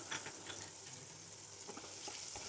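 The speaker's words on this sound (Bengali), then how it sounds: "এবার একই তেলে কিছুটা রসুন কুচি দিয়ে দিলাম।" Chopped garlic fries in the same oil just used to fry eggs for an egg curry, a soft, steady sizzle and crackle close by with scattered pops and no talking.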